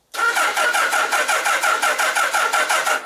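A 1976 Kawasaki KZ motorcycle engine cranks over on a flat lead-acid battery, a loud, close, rhythmic chugging of the starter turning the motor at a steady pace for about three seconds without catching.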